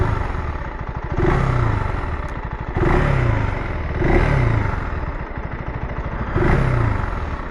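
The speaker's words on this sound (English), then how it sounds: "Just give it a few revs." A KTM 390 Adventure R motorcycle revs in neutral, its single-cylinder engine rising and falling through four or five blips close by. A steady idle rumble sits between the revs, with no talking.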